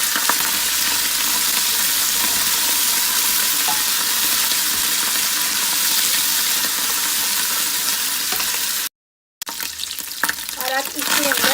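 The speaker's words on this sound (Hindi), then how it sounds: "ये जो लहसुन का पेस्ट था और साथ ही हरी मिर्ची ये डाल दूंगी। और इसको 1-8 मिनट तक भूनेंगे हम लोग।" Garlic paste and green chillies frying in a pan for dhaba-style chana dal, a loud, dense, continuous sizzle close up that cuts out abruptly for a moment near the end, then resumes with faint clatter.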